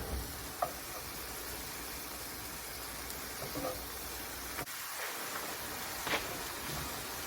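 Ground meat browns in a hot pan for a chile relleno casserole, giving a steady close sizzle with soft scraping taps as it is broken up; no talking.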